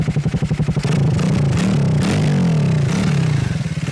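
A Triumph Speed Triple 1200 RS motorcycle with a Stage 2 setup starts up, first with rapid starter clatter, then a loud engine catch and revving rumble, close by and alone.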